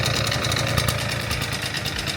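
An old, smoky scooter engine, started after sitting unused for two years, idles steadily and loudly with a rapid, slightly rough putter and no talk.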